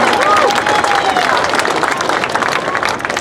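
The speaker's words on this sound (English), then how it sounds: "Give them a round of applause." An outdoor crowd at the Calaveras County Jumping Frog Jubilee finals applauds and cheers volunteers, a loud continuous clatter of clapping with scattered whoops and voices mixed in.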